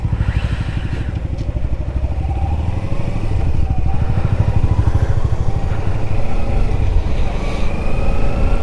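A Kawasaki Ninja 300 motorcycle pulls away at Mullayanagiri Peak in Chikmagalur, its engine running steadily and growing slightly louder, with a rough, continuous drone close by.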